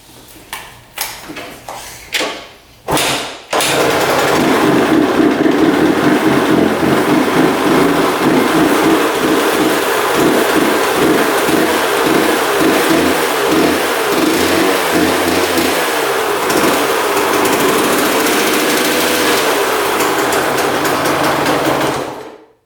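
An old dirt bike is kicked over a few times with sharp thumps and sputters, then its engine fires and runs loud and close, a rough, rapid chugging that holds steady for nearly twenty seconds before cutting off.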